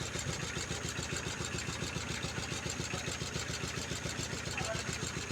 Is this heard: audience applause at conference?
no